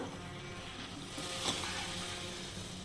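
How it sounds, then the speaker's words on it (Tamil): Steady bubbling hiss of water boiling in a pot, continuous and close, with a slight swell in the middle. "தண்ணி நல்லா கொதிக்குது"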